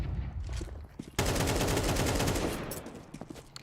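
Gunfire in a Counter-Strike esports match, a close-range shot on a sneaking player, lands as a sudden loud burst of rapid shots that continues densely under game noise.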